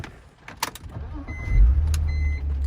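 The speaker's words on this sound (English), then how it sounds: "and the car starts" A BMW car engine cranks and catches on the ignition key, settling into a steady low rumble after a few clicks and rustles.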